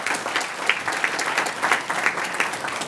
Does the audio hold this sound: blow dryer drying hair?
no